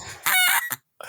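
A human voice imitating a goose-like honking call: a short, loud, harsh nasal squawk with a brief follow-up burst, then a pause and another short voiced sound.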